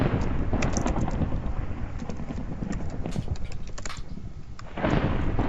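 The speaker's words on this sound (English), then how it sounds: "Whoa, lightning, cool." Thunder and lightning in a video game: a sustained, dense rumbling roar of crackling noise for several seconds, loud and continuous, with a fresh surge near the end and no talk over it.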